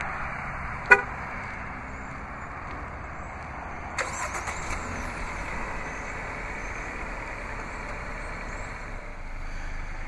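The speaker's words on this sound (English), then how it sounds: "To activate is easy, just double press the remote start button on the key fob." A Jeep Renegade answers a key-fob remote start with a single sharp horn chirp, then a few seconds later the engine cranks and settles into a quiet steady idle.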